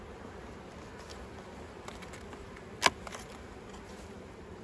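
Honey bees hum faintly around an opened beehive, a soft continuous buzz under quiet ambience, broken once by a short sharp click partway through.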